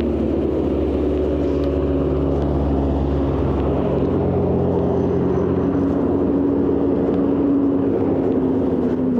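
Motorcycles roar past on a Swiss mountain road near Grimsel, a loud continuous engine drone whose pitch shifts midway as the bikes move along.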